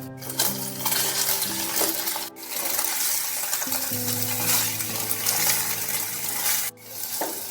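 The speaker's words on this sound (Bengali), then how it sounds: "এবার পনিরগুলোকে একেবারে হালকা করে একটু ভেজে নিতে হবে।" Paneer pieces fry lightly in oil in a kadhai, with a continuous close sizzle and occasional metallic clinks of stirring against the pan.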